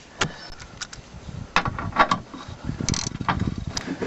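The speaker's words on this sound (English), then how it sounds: "So now I'm going to snug this up with a regular ratchet first." A regular ratchet clicks in quick, uneven strokes while snugging nuts on the idler arm of a GMT800 Chevy/GMC truck, close and fairly quiet, mixed with metallic handling noises.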